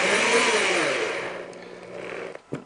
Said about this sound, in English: Just want to run the screws down until a little bit of butyl tape comes out around the edge